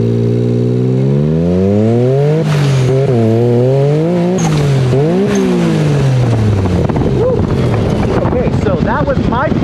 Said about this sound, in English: I did hit a first to second flat shift there